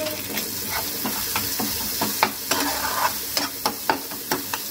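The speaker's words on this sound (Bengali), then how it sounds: "এটা ভালো করে নাড়াচাড়া করে নিলাম" Spices with sugar, turmeric and Kashmiri red chili powder being stirred in a hot frying pan, a loud sizzle broken by rhythmic scraping strokes of a spatula, close and without talk.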